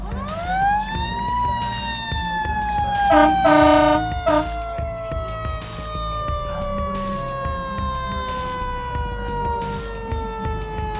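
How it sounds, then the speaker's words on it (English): An Enfield Fire Department truck's mechanical siren winds up and slowly descends in a long wail at a Fourth of July event, with a short burst of horn blasts partway through, loud and close. "And last but not least, the Enfield Fire Department!"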